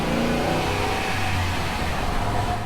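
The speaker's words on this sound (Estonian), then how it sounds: "seda on nii hästi kuulda, mis see mootor teeb" A Ram 1500 pickup engine revs steadily and loudly up close, a continuous throaty drone that holds its pitch without pause.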